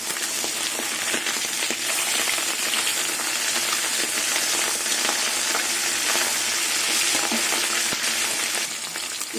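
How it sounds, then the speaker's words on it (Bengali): Flipped fish pieces sizzling in hot oil in a kadai: a continuous loud, close frying hiss with tiny spitting pops throughout, no voices. "মাছ একদিকে ভাজা হয়ে গেছে মাছগুলো উল্টে দেবো"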